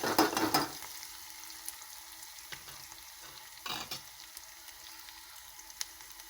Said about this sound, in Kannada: ಈರುಳ್ಳಿ ಸ್ವಲ್ಪ ಕಲರ್ ಚೇಂಜ್ ಆಗೋವರೆಗೂ ಫ್ರೈ ಮಾಡ್ಕೊಳ್ಳಿ.